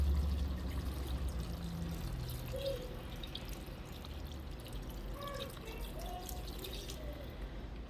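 Water pours steadily into a pot of Haitian okra sauce in a home kitchen, a continuous close splashing trickle with small drips, with no talk over it.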